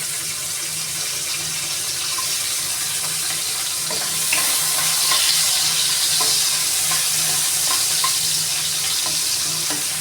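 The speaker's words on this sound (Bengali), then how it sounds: "কাজু কিশমিশটা ঘিয়ের মধ্যে ভাজলে এটা ফ্লেভারটা আরও ভালো লাগে" Cashews and raisins frying in hot ghee for carrot halwa, a steady close sizzle with soft stirring clicks that grows slightly louder midway, no talking.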